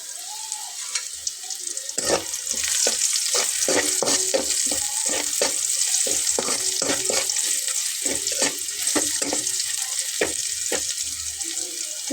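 Onion with bay leaves frying in a pan for a Bengali vegetarian okra-poppy seed dish, a steady close sizzle broken by repeated scraping stirs throughout, with no talking.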